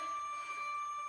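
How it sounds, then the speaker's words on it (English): A home workout timer buzzer sounds as a steady electronic tone, held evenly and moderately loud for about a second, no talking. "when the buzzer goes"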